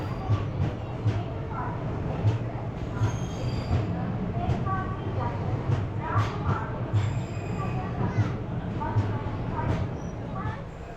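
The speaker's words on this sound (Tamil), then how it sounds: "நம்ம ட்ரெயினுக்கு முன்னாடி இன்னொரு ட்ரெயின் நம்மளை ஆப்போசிட் சைட்லேருந்து கிராஸ் பண்ணி போகுதுங்க" Passenger train passing on the opposite track beside a stopped express at a platform, a dense rumble of wheels with clicks and faint squeals, while people talk nearby.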